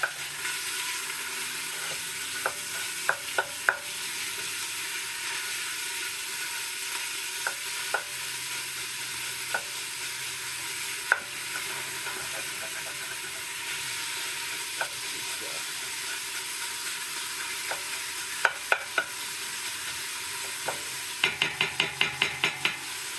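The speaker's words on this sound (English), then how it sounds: "Beef in the pan there." Steady loud sizzling of ground beef frying in a pan, with occasional sharp scrapes and taps of a utensil stirring against the pan.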